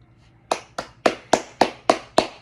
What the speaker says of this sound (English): we gonna clap for him